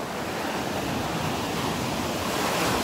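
Steady roar of surf at Naples Pier, with waves crashing on the beach and under the pier, washing in continuously, broad and loud, no voices, a constant rushing wash that swells slightly toward the end.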